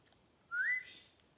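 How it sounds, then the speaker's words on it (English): A single clear rising boat whistle, close and fairly loud, gliding upward and holding briefly before fading. "Do you like that whistle?"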